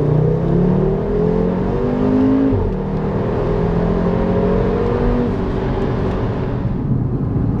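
Audi RS 3 with an S-tronic gearbox accelerating hard, its loud engine note climbing steadily with quick, smooth gearshifts marked by brief dips in pitch, close and continuous throughout with no talking.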